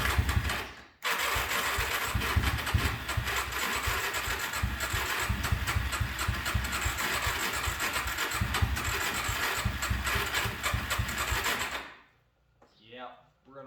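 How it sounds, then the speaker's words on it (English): A motorcycle starter motor, on a Kawasaki Z400 or Honda Shadow in a workshop, grinds and whirs in a long, loud cranking run that stops abruptly, followed by faint talk. "It's the starter."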